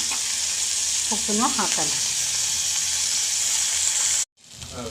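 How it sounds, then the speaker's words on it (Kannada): Food fries with tomato in a pan, giving off a loud, steady sizzle that runs throughout and cuts off abruptly near the end. A voice speaks briefly over it. "ಒಂದು 5 ಮಿನಿಟ್ಸು ಫ್ರೈ ಮಾಡೋಣ."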